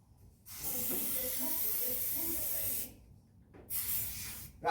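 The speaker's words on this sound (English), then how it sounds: "I'll go around it with some silicone spray first." Aerosol silicone spray hisses in a long steady burst during a Chevrolet Suburban rebuild, then stops; two short sprays follow after a pause, close to the listener.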